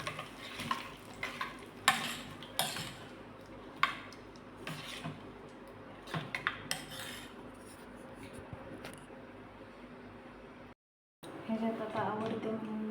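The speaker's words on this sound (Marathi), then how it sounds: "तर छान मिक्स करूया." A spoon stirs a yogurt dish in a pan after a cumin and mustard seed tempering, giving scraping and clinking strokes at an uneven rhythm with a soft sizzle underneath and a brief gap near the end.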